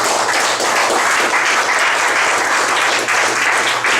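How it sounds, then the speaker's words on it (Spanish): Loud, sustained applause from a church congregation, dense clapping filling the space steadily without a break. "Denme un fuerte aplauso al Señor"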